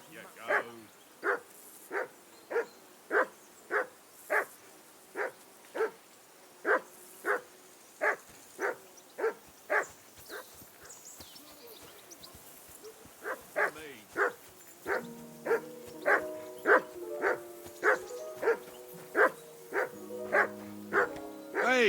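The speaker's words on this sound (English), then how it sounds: "Hey, call off that dog and then we can talk" A dog barks repeatedly in the medieval role-playing game Kingdom Come Deliverance II, a steady run of evenly spaced, fairly close barks with a brief lull midway before the barking resumes over background music.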